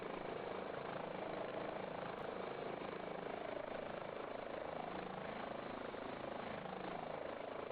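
A helicopter in a flight simulator video game gives a constant, even rotor and engine drone throughout, alone and at steady loudness.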